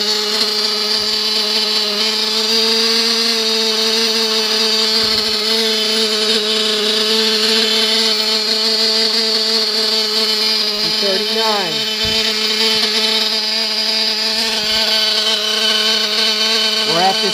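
An O.S. VZB .21 nitro model engine running at half throttle makes a loud, steady, high-pitched whining drone that holds throughout, with a couple of brief pitch dips and swoops near the end.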